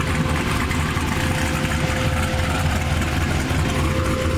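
A modified car with a trumpet-like exhaust idles at a car meet, a loud, steady, deep rumble with a constant droning tone and no voices.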